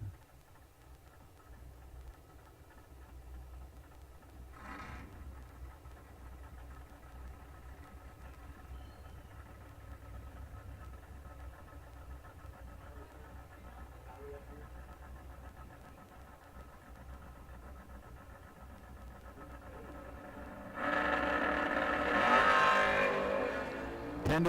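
Door-car drag race between a Pontiac Sunbird and a Malibu Wagon: a steady low engine rumble idles at the line for a long stretch, then a louder, harsher burst of engine roar swells near the end.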